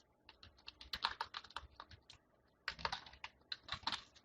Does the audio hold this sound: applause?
no